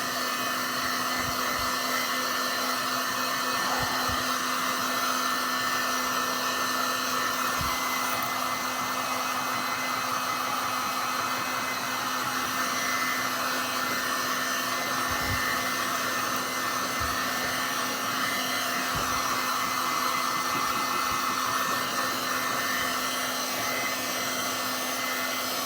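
Heat tool blowing on a painted shoe to heat-set the paint, a steady loud whooshing fan roar with a constant hum, alone and unbroken throughout.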